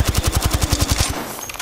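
Automatic gunfire in Apex Legends, a rapid burst of about a dozen loud, evenly spaced shots that ends abruptly in a short fading tail.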